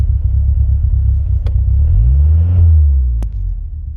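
A car engine idling close by after starting without gas, a steady low rumble with a brief swell in the middle, then back to a smooth idle.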